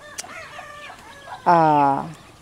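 Chickens on a farm give a single loud, close cluck-like call of about half a second, with faint bird sounds and someone speaking softly in the background.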